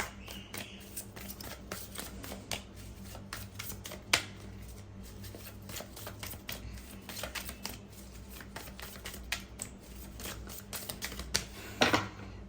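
Tarot cards shuffled by hand in a room with street vendors outside, a long stretch of quiet papery riffling and light clicks, close but soft, over a constant low background hum.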